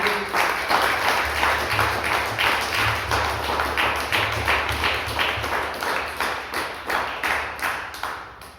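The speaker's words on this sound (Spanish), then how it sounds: "Déselo fuerte el aplauso al Señor." A church congregation at a Spanish-language service claps loudly for the Lord, a dense, steady round of applause that fills the room and fades toward the end.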